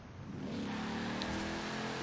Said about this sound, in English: the other car that we win from a seasonal race, that's the Plymouth, the Fury.